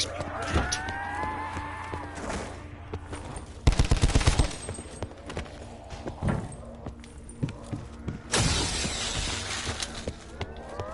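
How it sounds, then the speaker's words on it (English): Rapid bursts of automatic gunfire from a gun in a zombies video game rattle out loudly in two main volleys, mixed with lowing animal sounds and other game noise. "this gun sounds mean"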